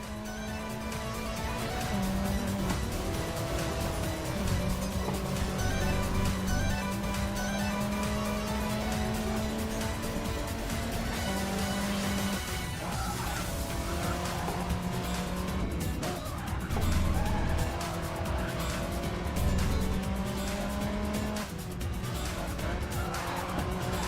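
A Hyundai Veloster in the Racing Master video game taking the Nürburgring carousel in a grip race, its engine droning steadily and shifting pitch through the corner, with tyre squeal along the way.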